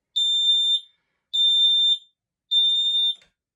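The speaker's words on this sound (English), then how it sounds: "Time for the last smoke alarm. Let's make it beep" Three loud, shrill beeps from a home smoke alarm being tested, each lasting under a second with short silent gaps between, close and alone.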